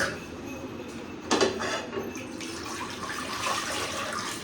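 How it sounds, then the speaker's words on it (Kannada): Water splashes and trickles steadily into a metal pressure cooker close by, a continuous pouring wash with no voices. "ಸ್ವಲ್ಪ ನೀರು ಹಾಕೊಳ್ಳೋಣ ಕುಕ್ಕರ್ಗೆ"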